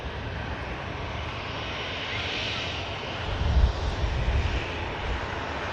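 Aircraft engines drone at Manchester Airport, a steady distant roar with a low rumble that swells briefly midway, heard alone without talk.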